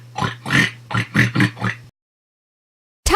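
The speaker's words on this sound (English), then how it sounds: "Pig." A pig oinks in a rapid series of five nasal grunts over a low hum, followed by silence and a brief new sound at the end.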